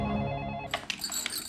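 A telephone rings in a domestic drama scene, a short electronic ring with bright repeated tones that sounds close and clear, with no voices over it.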